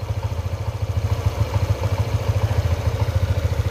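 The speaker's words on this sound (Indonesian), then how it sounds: "lebih ke suara mesin sih yang keras ini dia ketika langsam seperti ini kawan-kawan" A Honda Vario 160 scooter engine idling close up, with a rapid, even low pulsing chug and a light mechanical clatter that keeps a steady rhythm throughout, with no voices.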